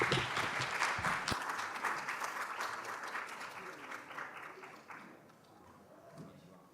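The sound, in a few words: applause welcoming speaker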